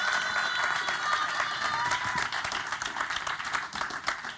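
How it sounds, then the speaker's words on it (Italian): Audience applause at the Cantamare 2024 evening show, steady crowd clapping with a few cheers, fairly distant and continuous throughout, with faint voices mixed in. "Un applauso a Floriana."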